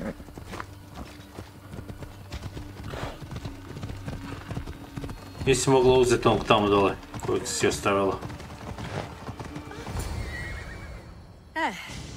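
A horse in the Assassin's Creed Odyssey video game clip-clops at a steady gallop and lets out a loud whinny, with game dialogue spoken over the hoofbeats.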